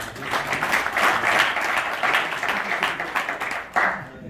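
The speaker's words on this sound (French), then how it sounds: "On peut l'applaudir quand même." Warm applause for André Jeanneret, re-elected president of Medinsoft for a ninth year, at a French business gathering; a dense crowd claps steadily throughout, with a fresh burst near the end.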